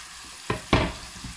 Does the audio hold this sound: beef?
yes